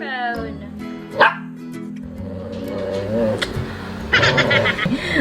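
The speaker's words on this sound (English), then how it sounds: "Stop barking!" A dog barks and yips repeatedly in a home kitchen, sharp bursts mixed with whimpering noises, while a person talks over it.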